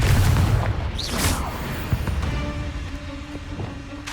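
A deep, booming blast from the Confringo spell in the video game Hogwarts Legacy, rumbling loudly at the start and fading into a lingering tail with faint tonal game effects.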